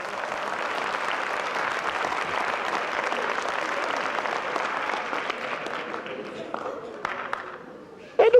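Sustained applause from a comedy show audience, a dense steady clatter of many hands that fades off toward the end before a short loud burst.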